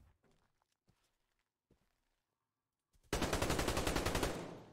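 An RPK machine gun in the game Survarium fires a rapid, loud sustained burst after a few faint footstep-like thumps and near silence, the shots ringing out in a steady rhythm before fading.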